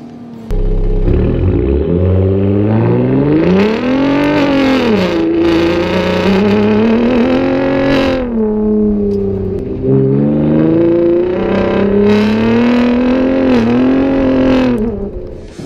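A Ford F-150 Raptor pickup's gasoline engine revs hard and repeatedly, pitch sweeping up and down through several throttle blips, loud and close with a deep rumbling exhaust.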